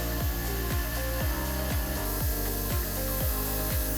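A milling machine machines away the tab on a clamped balisong scissor blade, giving a loud, continuous grinding drone with steady rhythmic cutter pulses about twice per second throughout.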